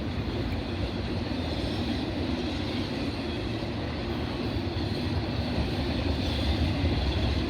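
A long freight train with refrigerated reefer cars rolls past at Oak Harbor, Ohio, a steady, loud, continuous rumble and clatter of wheels and cars filling the whole stretch without any voices.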